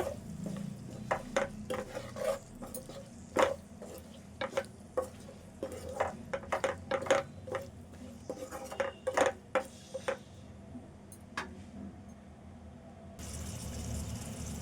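Cluster beans frying with turmeric in a pan: a soft steady sizzle beneath repeated sharp clinks and scrapes of a spatula against the pan, irregular and close, with a louder hiss of frying at the end.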